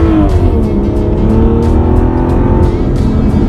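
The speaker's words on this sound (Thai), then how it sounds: "เป็นเสียงที่ไพเราะจริงครับขับร้องโดยเครื่องยนต์6ลิตร12สูบโดย Aston Martin" An Aston Martin DB9 GT Bond Edition's 6-litre V12 roars loud and close through its sport exhaust, revving with a deep, rising harmonic growl and sharp crackles throughout.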